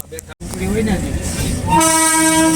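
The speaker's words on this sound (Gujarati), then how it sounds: "ફાસ્ટ જો ટ્રેન આવી છે" An Indian Railways train arrives with a loud, sustained horn blast that swells over the rumble of rolling wagons, heard close by.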